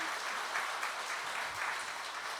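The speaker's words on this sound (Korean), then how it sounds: "박수 한번 더 주시죠" A crowd claps at an appointment ceremony and rally for the committee pushing the GTX-C rail line extension to Cheonan, South Korea. The applause is brief and continuous, sustained evenly for a couple of seconds with no speech.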